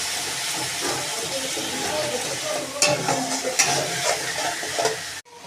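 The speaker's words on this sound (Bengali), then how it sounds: "মশলাটা যাতে পুড়ে না যায় তার জন্য অল্প একটু জল দিয়ে দিলাম, দিয়ে ভালো করে আবারও কষিয়ে নিচ্ছি" Masala with chili powder and a splash of water sizzling in a pan for Bengali bhetki fish curry, with continuous frying hiss, scraping stirs and a few sharper clinks of the spoon, ending abruptly.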